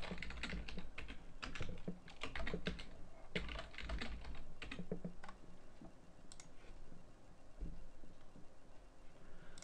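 A password is typed on a computer keyboard during a Windows server setup, heard as rapid, irregular clusters of close key clacks that thin out and quieten toward the end.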